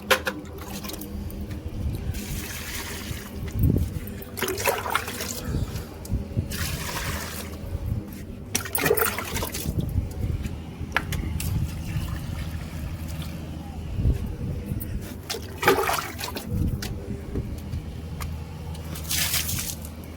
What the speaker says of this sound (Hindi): गाइस मिर्चों में दूंगी मैं पानी